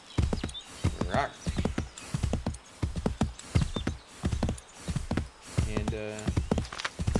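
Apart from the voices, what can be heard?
horse hooves clip-clopping and heavy breathing, Assassin's Creed III video game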